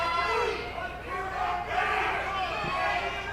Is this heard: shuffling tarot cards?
no